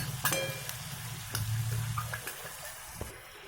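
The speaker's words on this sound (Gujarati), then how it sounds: "જો હવે નાખ્યું છે આપણે લસણ" Garlic frying in a pan gives a soft, steady sizzle with a few sharp clicks of stirring, fairly faint and close, with no talking.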